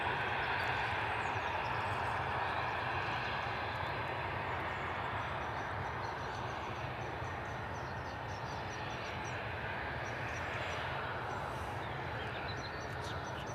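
An airplane descends toward runway 09 at East Midlands Airport on a foggy evening, its engines giving a steady, moderately distant roar that holds for the whole stretch without voices.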